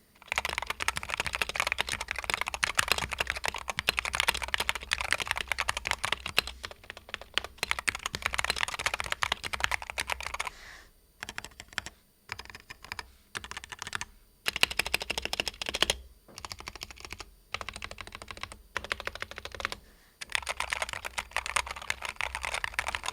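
Rapid, steady typing on a stock Wooting 60HE gaming keyboard, close and crisp, with dense clacking keystrokes broken by a few brief pauses.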